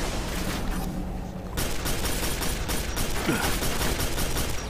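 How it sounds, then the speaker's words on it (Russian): Gunfire in Quake 4: rapid crackling bursts of shots that break off briefly, then resume over a steady noisy din of battle, fairly loud and close. "кто по мне стреляет?"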